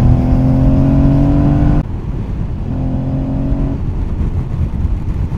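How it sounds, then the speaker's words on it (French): An Aprilia Tuareg 660 motorcycle revs its engine up with a loud throaty airbox roar, drops back abruptly, then rises in a second shorter rev before settling to idle, heard close up. "la boîte à air fait le bruit que tu aimes avoir sur une moto"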